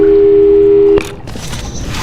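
In the video game Portal 2, a loud steady telephone tone hums for about one second, then cuts off abruptly with a click, leaving a softer muffled background.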